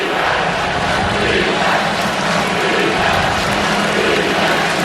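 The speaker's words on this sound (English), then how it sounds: "the only noise we hear right now is the Florida State small section in the far left corner chanting defense" A small section of Florida State fans in a large college football stadium chants defense, a loud, continuous crowd roar with a faint repeated cadence and no clear voices.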